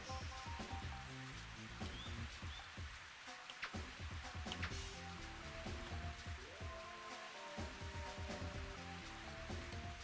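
Steady rain in Mario Golf 64, a dense, continuous patter and hiss that persists throughout, mixed with game music and sound effects.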